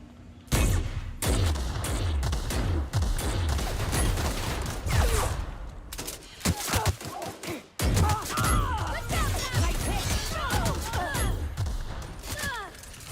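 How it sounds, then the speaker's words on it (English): A grenade launcher fired repeatedly in the sci-fi role-playing game The Outer Worlds, with loud, close, booming blasts and crashing impacts in quick bursts, followed by a brief lull and then more explosions. "Let me see what this grenade launcher does for us."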